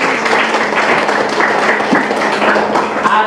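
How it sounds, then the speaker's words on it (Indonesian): A classroom of students clapping together, a dense, fairly loud patter of many hands that holds steady for a few seconds. "Benar sekali, tepuk tangan semua."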